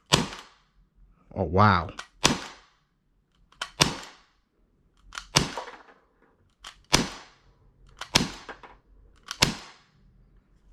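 Glock 19X blowback BB pistol firing roughly nine sharp, snappy shots at irregular intervals, each a crisp crack with a brief mechanical slide clack, close and loud, with a short exclamation from a person between shots.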